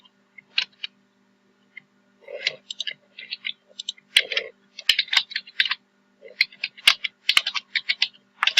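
Typing on a computer keyboard while entering a title for a course module link, heard as irregular bursts of close, crisp key clicks with short pauses, no talking.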